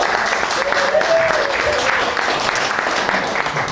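Loud, steady applause from an audience at a Q&A event, a continuous dense wash of clapping with a faint tonal whine rising and falling briefly in the middle.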